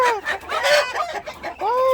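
Native chickens, some of them crossbreeds, cluck and crow loudly and close by, their calls coming in overlapping, uneven bursts with short dips between them.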